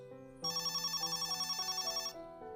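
A telephone rings in a dramatized Bengali village ghost story: a steady, bright electronic ring pulses rapidly for about a second and a half over soft background music, then stops.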